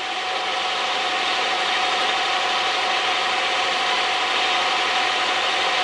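A lathe fitted with a milling attachment cuts under power feed, giving a steady, continuous mechanical hum and whine that holds at an even level, close and alone with no talk.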